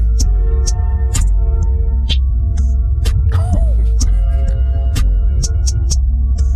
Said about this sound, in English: You hear that hi-hat right here?